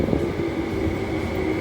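An MTR train at Tai Wai Station in Hong Kong rumbles steadily with a low drone and a faint steady whine, a loud, continuous, near sound with no speech over it.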